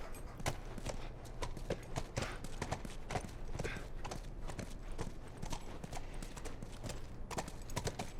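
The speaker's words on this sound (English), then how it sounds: "Ellie, why are you on a horse inside?" Steady clip-clop of horse hooves walking indoors at an even rhythm in the game The Last of Us, fairly close, with a brief whinny-like texture and faint background ambience.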